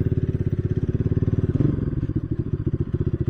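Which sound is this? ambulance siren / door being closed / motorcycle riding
motorcycle riding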